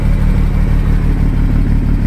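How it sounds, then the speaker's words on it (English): Engine of a 1967 Unimog troop carrier running through a 4-inch diesel exhaust with a packed muffler, a loud, close, steady low throb with rapid regular pulses, alone without talk. "This exhaust I made, it's a 4-inch exhaust off of a diesel."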